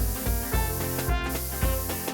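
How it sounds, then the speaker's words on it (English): A spray bottle fires several quick hissing squirts in a rapid irregular rhythm, close and crisp, with no speech. "Stop spraying!"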